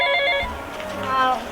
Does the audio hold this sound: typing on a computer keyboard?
no